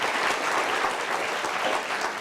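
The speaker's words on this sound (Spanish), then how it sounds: "Dale un aplauso al Señor." A church congregation breaks into steady applause for the Lord, a dense, even wash of many hands clapping together without voices.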